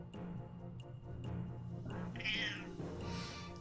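A cat meows once, a drawn-out rising and falling call in the middle, with faint household noise and light ticking around it.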